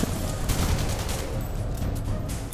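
Shotgun blasts from the Alien Breed: Assault video game, a dense run of loud overlapping gunfire bursts filling the whole stretch without pause.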